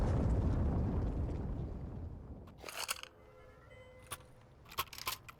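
A bomb detonates on the Inferno map in Counter-Strike: a loud roaring blast that rumbles and slowly dies away, followed by scattered sharp clicks and pops.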